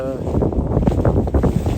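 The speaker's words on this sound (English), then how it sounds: "It's pretty windy" Strong wind buffets the microphone at a campsite in Yosemite while a tent is being set up, a loud, gusty low rumble with a voice speaking underneath.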